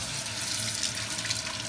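Water rushing and gurgling down a kitchen sink drain after clams have soaked in it, a steady close splashing flow without pauses.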